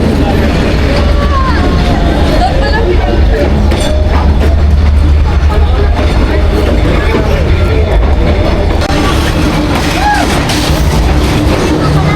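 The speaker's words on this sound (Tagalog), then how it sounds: "So the train is coming na. The train is coming." A train pulling into a station in Hanoi, a loud steady rumble and rattle filling the whole stretch with a bustling crowd murmuring underneath.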